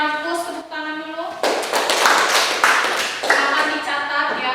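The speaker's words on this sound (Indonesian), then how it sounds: "tepuk tangan dulu" Schoolchildren in a classroom burst into a brief round of clapping after a student's question, loud and close, with talking heard just before and through the claps.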